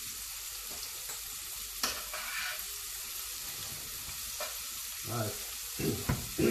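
Onion frying in a pan with a pinch of salt, a steady soft sizzle with a few scraping stirs and light clatter near the end; one brief word spoken.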